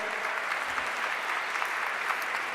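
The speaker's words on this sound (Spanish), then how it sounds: "darle un aplauso al subsecretario de Patrimonio Cultural" Audience in a seminar on intangible cultural heritage applauds the undersecretary of cultural heritage: steady, dense clapping from a room of people, moderately loud throughout.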